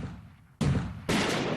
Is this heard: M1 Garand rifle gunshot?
yes